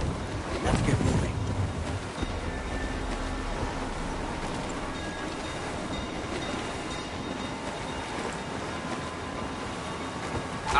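A sailing ship in Assassin's Creed IV: Black Flag moving through open water, a steady low rush of sea and hull with a faint creak, lasting throughout with no talk.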